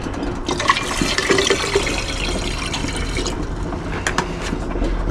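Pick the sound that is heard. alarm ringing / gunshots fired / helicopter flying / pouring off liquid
pouring off liquid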